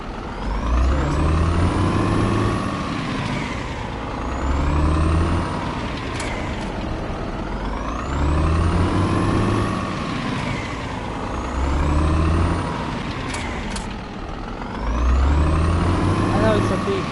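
A Scania truck labors up a big hill, its engine droning loud and steady in rising and falling surges, with air-brake-like hisses and occasional whining tones over the top.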